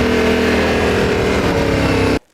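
A Yamaha Tenere 700 adventure motorcycle revs hard and loud as it hops over a log off-road, the engine roaring steadily up close for about two seconds before cutting off abruptly.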